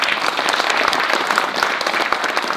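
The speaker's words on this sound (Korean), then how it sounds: "출판기념회의 주인공인 김시곤 저자님께 박수 부탁드립니다" A book launch audience claps for author Kim Si-gon, a dense, even burst of many hands filling the room, loud and close with no talk over it.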